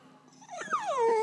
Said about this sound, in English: Why are you whiny doggy?